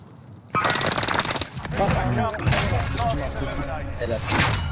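A rapid burst of automatic fire from the Fennec submachine gun in Warzone rattles out loud and close, then gives way to scattered game noises and quieter shots over the next few seconds.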